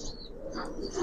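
Young Giribaz and coloured pigeons cooing softly at close range, a low murmuring coo with faint chirps over brief shuffling, in a clip about a second long.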